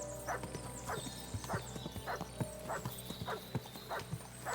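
Horse walking in the video game Kingdom Come Deliverance 2, slow evenly spaced hoof clops over a faint background hum, close and moderately loud.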